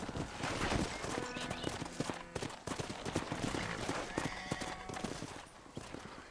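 Horse hooves clip-clop and a horse neighs in the Western video game Red Dead Redemption, set against a busy, dense game soundscape with scattered distant gunfire-like pops.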